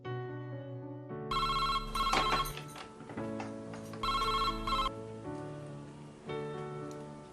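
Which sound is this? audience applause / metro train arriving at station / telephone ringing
telephone ringing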